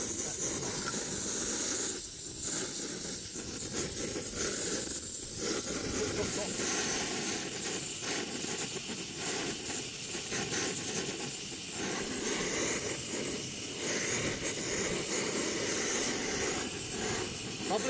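A backpacking gas stove burner hisses steadily and loudly up close, a constant rushing roar that never lets up, with faint voices under it.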